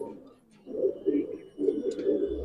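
Pigeons cooing in a Madrasi pigeon loft in Howrah, low throaty coos in two rolling bursts, fairly close, with background noise but no clear speech.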